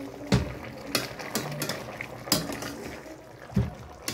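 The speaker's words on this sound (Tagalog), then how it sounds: "Haluin lang natin siya hanggang truly mix na siya." Carrot and potato mixture stirred in a pot, with several sharp clinks of a utensil against the pot and a soft scraping and shuffling sound between them, close and moderately loud, no talking.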